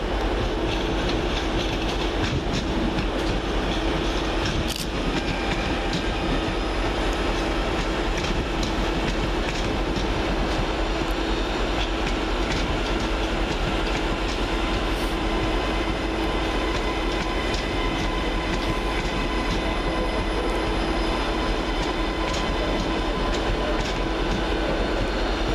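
Two coupled Northern Rail class 331 electric multiple units run through Manchester Oxford Road station with a continuous loud rumble and rail clatter that holds steady throughout, with no talking.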